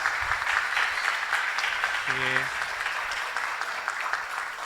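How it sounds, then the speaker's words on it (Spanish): Sustained, dense applause from a seminar audience honouring a guest doctor, a steady wash of clapping that fills the whole stretch, with a brief low voice-like murmur briefly audible partway through. "procedemos nuevamente a reiterarle nuestro agradecimiento con fuertes aplausos al doctor Fidel Rojas Vargas"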